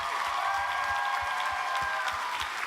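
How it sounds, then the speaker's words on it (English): Applause from a conference audience at a youth leadership summit, continuous dense clapping throughout, fairly close and even in level. "Can we please give them a round of applause?"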